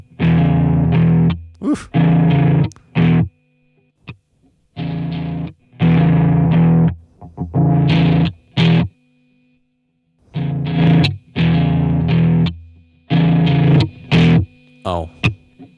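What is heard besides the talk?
distortion effect applied to synthesized sample loop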